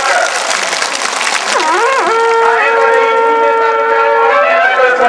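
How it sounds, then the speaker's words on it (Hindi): Welcoming applause fills a crowded Congress party gathering in Ballia, a steady wash of clapping joined midway by a loud, wavering musical tone that settles into a sustained note. "कौशल राय जी कहीं ताली बजा के स्वागत करेगा"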